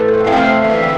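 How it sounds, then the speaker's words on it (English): A sustained MIDI instrument chord in Studio One Prime drenched in a big reverb effect, a steady, loud tonal wash with a long, smooth tail and no attack. "So I can have a big reverb"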